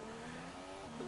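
A McLaren Formula 1 car in a video game race at the Russian Grand Prix holds a steady high engine whine through a turn, faint and brief.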